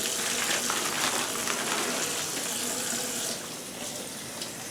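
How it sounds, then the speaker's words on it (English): Tap water pours and splashes steadily over a boneless NY strip beef roll, rinsing off excess blood in a sink, a continuous close hiss of running water with no talk. "Just rinse some excess blood off of it."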